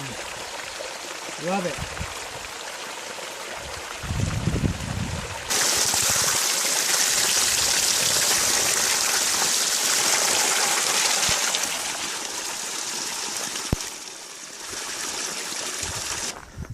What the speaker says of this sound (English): This is Sheep Camp Spring. Fresh cold water right out of the mountain.